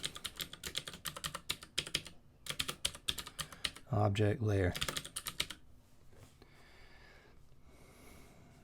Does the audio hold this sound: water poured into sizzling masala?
no